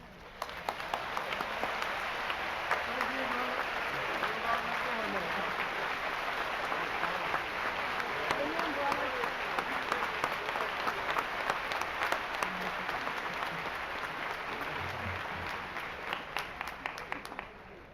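Sustained applause from a large audience at a university commencement convocation, steady dense clapping for about eighteen seconds that rises quickly and tapers slightly at the end.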